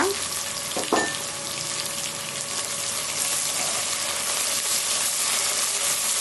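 Mutton dalcha with bay leaves sizzles and fries in a pan while being stirred, giving a steady, close hiss with a few scraping knocks near the start and no talking.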